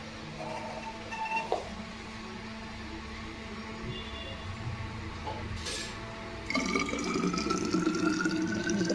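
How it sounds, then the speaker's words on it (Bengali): Hot boiled water poured from a kettle into a thermos flask, a steady close trickle that turns into a louder, fuller filling gush partway through, with no talking. "তোমরা ফ্লাক্সে গরম জল ঢালবে। দেখো কীভাবে আমি দেখাচ্ছি জলটা ঢালা"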